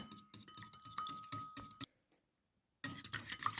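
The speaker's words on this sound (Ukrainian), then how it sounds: "Гарно розбовтую яйця, кидаю солі, щепотку хорошу." Rapid clinking and tapping of a utensil beating eggs in a bowl for batter, a short pause, then the brisk whisking resumes, close and fairly loud.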